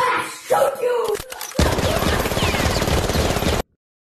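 Burst of rapid gunfire in a comedy sketch, loud and sustained for about two seconds after a short shouted exchange, with voices heard briefly beforehand.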